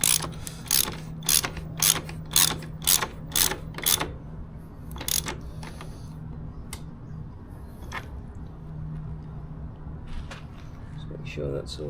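A ratchet snugs up the rear wheel axle on a Kove 450 Rally motorcycle in a workshop, with a quick series of sharp, evenly spaced clicks, then quieter handling noises and faint talk.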